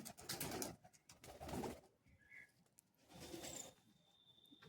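Pigeons in a loft coo and call intermittently, mid-distance, over a busy background of rustling and handling noise; a few brief bird notes stand out among the bursts.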